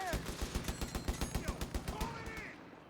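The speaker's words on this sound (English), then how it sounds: "does look like it's going to be a barrage here" Rapid gunfire and shelling from an artillery barrage in Company of Heroes 3, a dense run of sharp bursts over about two seconds that then trails off, with a voice faintly beneath.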